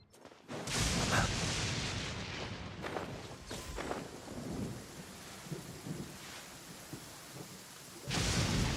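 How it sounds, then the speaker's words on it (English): A thunderstorm in the video game Genshin Impact, with loud rolling thunder cracks at the start and end over a steady wash of heavy rain, deep rumbles fading in between. "where is the storm?"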